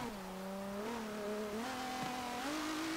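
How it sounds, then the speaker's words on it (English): A 1986 Dodge Shelby Omni GLHS races in Forza Motorsport 7 on a wet track as its engine revs up through the gears. The pitch climbs, briefly dips at each upshift, then climbs again over a steady road rumble. "car's struggling for traction all the way through those gears"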